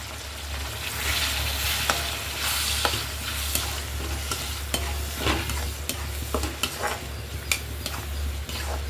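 Masala paste fries with onions and green chillies for a fish curry, a close, continuous sizzle broken by repeated sharp clicks and scrapes of stirring, over a low steady hum.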